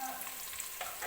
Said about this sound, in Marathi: तर तूप टाकून घेतल्यानंतर सुद्धा आपण कांदा छान असा भाजून घेतोय बघा.